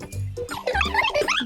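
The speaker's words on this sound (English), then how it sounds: "That's a dog barking." A dog barks several times in quick succession, close and fairly loud, with short sharp yelps breaking the quiet.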